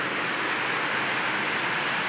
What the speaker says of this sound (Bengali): এই বাইরে প্রচুর বৃষ্টি হচ্ছে